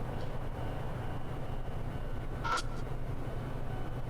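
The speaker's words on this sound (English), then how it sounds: "I can hear the far off clatter of the train." A distant train in Spirit Hunter: NG gives a faint, continuous low rumbling clatter under a steady ambient bed, with a brief higher squeal partway through, no talking.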